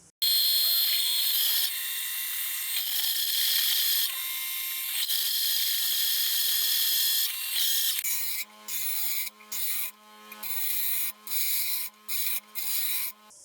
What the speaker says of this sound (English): a hand drill with this size hole saw through stainless should be fairly easy